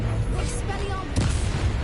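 In Hogwarts Legacy, the Expelliarmus disarming spell lands as a sharp booming crack about midway, amid a dense rumble of game noise with a voice speaking nearby.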